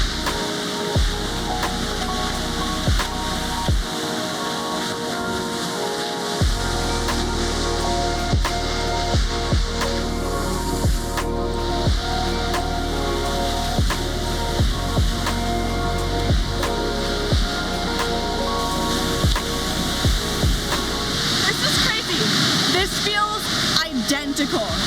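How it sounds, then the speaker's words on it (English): A loud waterfall at Twin Falls, Idaho, fills the air with a constant, heavy roar of crashing water, steady and close throughout, with a voice faintly heard over it. "there is this waterfall called Seljalandsfoss where you can go right behind it, and this feels exactly like that"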